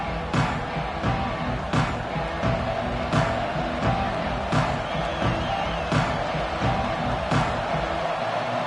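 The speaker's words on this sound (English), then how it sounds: "this crowd is feeling themselves after that last drive" Stadium crowd in an NCAA football video game, a steady wide roar of cheering with recurring sharp thumps over a constant dense backdrop, loud and continuous throughout.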